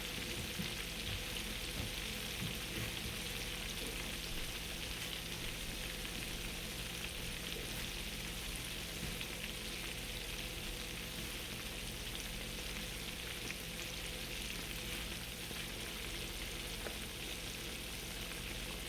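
Farm-raised catfish fillets with skin frying in hot oil in a pan, a dense, steady crackling sizzle that holds loud and even throughout, with no talking.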